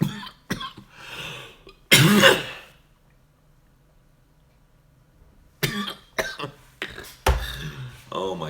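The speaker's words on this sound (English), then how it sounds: "I'm too busy coughing." Harsh, racking coughing from a person, several loud bursts in a cluster followed by a quiet pause, then more coughing and gasping close to the mic.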